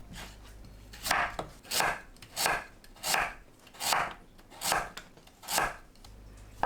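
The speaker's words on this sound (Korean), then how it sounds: "무를 납작하게 썰어주세요." A knife slices radish flat on a cutting board in seven evenly spaced, crisp chops, close and clear, with a quiet background between strokes.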